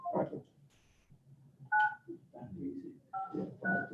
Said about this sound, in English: So we're gonna call you on the other phone. Okay, we're gonna call you on the 3017.